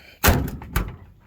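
A Chevy pickup truck door with worn door pins slams shut with a heavy thunk, followed by a second, lighter thud as it is pushed closed again.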